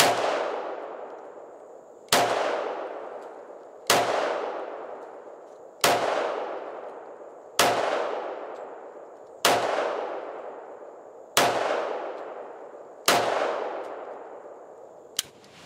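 Eight sharp gunshots from a Para Ordnance GI Expert 1911 pistol, fired at a slow, steady pace about two seconds apart, each crack ringing out with a long decaying echo, loud and close.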